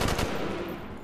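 Gunfire from a weapon in Black Ops 3 Zombies on the custom Area 51 map, a dense, sustained burst of rapid shots that is loud and close and runs through the whole moment with no talking.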